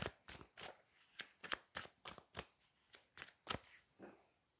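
Tarot and petit Lenormand cards being shuffled by hand, a quick run of about a dozen crisp riffling snaps in an uneven rhythm, close but quiet, with no voices.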